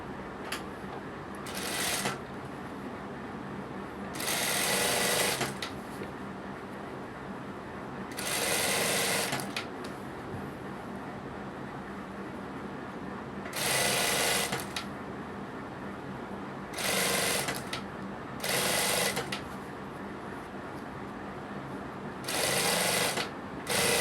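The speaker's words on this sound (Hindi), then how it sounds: "तो मैं प्रेस से बचने के लिए मतलब सिलाई मार लेता हूँ ऊपर।" A sewing machine topstitching over a kurti neck seam runs in about seven short, steady whirring bursts with quiet gaps between them, close up and with no voices.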